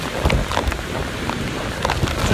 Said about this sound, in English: Winds are just punishing everything here.